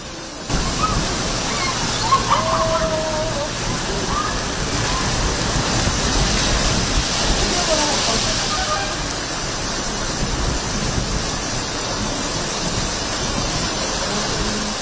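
Rain in Chennai: a steady, dense hiss of falling water that holds evenly for the whole stretch, with no clear voices on top.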